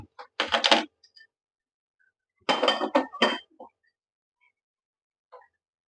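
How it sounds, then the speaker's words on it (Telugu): A metal bowl is set onto a stove with two bursts of clattering, clinking contact separated by silence, then a faint final tap, close and quiet otherwise. "స్టవ్ ఆన్ చేసుకొని బౌల్ పెట్టుకుందాం ఫ్రెండ్స్."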